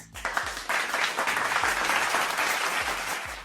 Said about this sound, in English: we ought to give her a round of applause